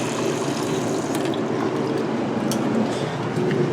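Water runs steadily from a sink tap inside a 2019 Airstream International Serenity 27FBQ trailer with the water pump on, a continuous close rushing hiss with faint clicks and no talking.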